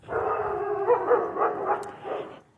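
A neighbour's dogs bark and howl outside in a Sioux City neighbourhood, a continuous, fairly loud run of overlapping yelps and howls at mid distance, with no talk.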